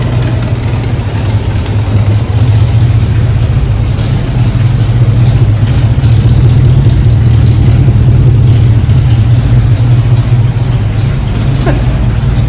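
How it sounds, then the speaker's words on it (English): A car engine runs loud and close after starting, holding a deep, steady rumble with slight rises in revs and no voices over it. "I love the way the engine rocks the car when you rev it."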